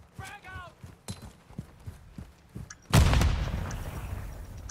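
A frag grenade explodes in a video game, a loud sudden boom with a long decaying rumble following a stretch of quieter gunfire and footsteps, with voices talking before it.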